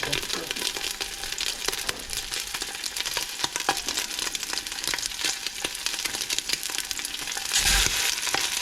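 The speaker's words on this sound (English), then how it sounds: "Got the oil hot, started putting the sausage in the pan" Sausage fries in hot oil in a pot with a constant dense crackling sizzle, close and loud, with faint handling noises throughout.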